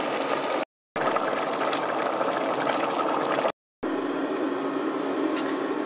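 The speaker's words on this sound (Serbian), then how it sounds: "I s tim sad nalivam naše povrće, naš brodet." Seasoned stock made from boiled water, a spoon of vegeta and fish-soup spice is poured over softened root vegetables and mushrooms for a brodet fish stew, a steady close liquid pour broken by two brief silent cuts.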